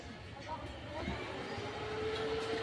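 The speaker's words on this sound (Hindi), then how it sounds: "आप सुन सकते हैं फ़ैन चालू भी हो चुका है" A newly fitted cooling fan spins up inside a Nico Arc MMA 250 IGBT welding machine under repair, its steady whirring hum rising and settling over a noisy workshop background.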